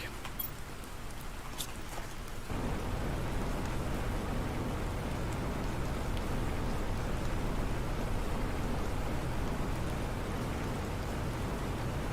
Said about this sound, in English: It's dark and it's raining.